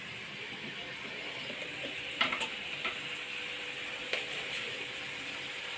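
Tomatoes fry in oil in a pan with a soft, steady sizzle, quiet and close, punctuated by a few sharp clinks of a utensil against the pan.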